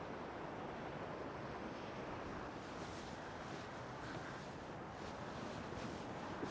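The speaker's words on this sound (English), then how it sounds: "You can see the waves going up and down the beach." Waves break and wash continuously onto the beach at Palmanova, Mallorca, a soft steady surf hiss mixed with light wind noise, fairly faint and without voices.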